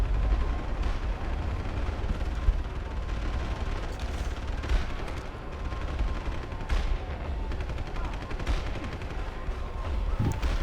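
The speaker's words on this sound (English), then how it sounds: "Gunfire." Gunfire and riot chaos in the video game Deus Ex: Human Revolution Director's Cut, a dense continuous barrage of overlapping shots and bursts under a roaring mixed din, loud and steady throughout with no talk.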